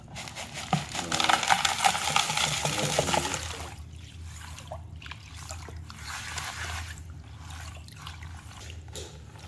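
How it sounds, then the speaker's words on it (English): Gold-bearing gravel is hand panned in water: loud swishing and sloshing for the first few seconds, then a softer, steady trickle and dribble of water with occasional small splashes, close by and with no talking. "I'm going to just hand pan these down"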